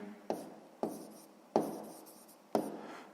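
Handwriting during a sixth-grade math exercise, four short pen or chalk strokes each starting with a crisp tap and trailing off, spaced about a second apart, quiet and close.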